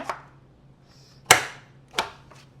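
A punch board cuts through paper while an envelope is being made, giving a few sharp, crisp single snaps spaced apart, with quiet handling in between.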